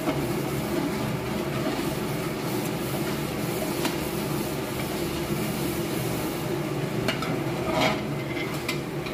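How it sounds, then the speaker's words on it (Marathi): Ginger garlic paste frying in oil in a large batch for restaurant gravy, a steady dense sizzle with continuous stirring and occasional scraping of the pan throughout. "आलं लसूण पेस्ट तेलामध्ये पूर्ण भाजल्याशिवाय आपण पुढचं आयटम याच्यामध्ये ॲड करणार नाही आहोत"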